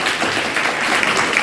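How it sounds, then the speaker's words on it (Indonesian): Audience at a school drama performance breaking into dense, loud applause, a continuous burst of many hands clapping close by for a brief moment. "Tepuk tangan untuk jawabannya."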